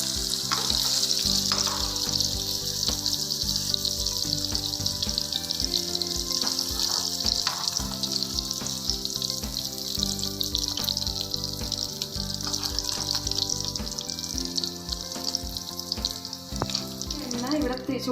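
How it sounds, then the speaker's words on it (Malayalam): Paneer frying in hot oil for a dhaba-style paneer masala, a steady dense sizzle and crackle running throughout at an even, close level. "നമ്മുടെ പനീർ ഇവിടെ ഞാനൊന്ന് ജസ്റ്റ് ഒന്ന് ഫ്രൈ ചെയ്യുന്നത്"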